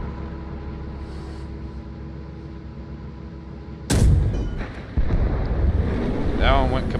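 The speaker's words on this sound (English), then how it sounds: "That one went kaboom." Explosion in the tank combat video game GHPC, a sudden loud blast breaking over a low engine rumble, followed by a second impact and a crackling debris tail.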